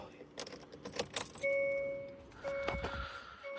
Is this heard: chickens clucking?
no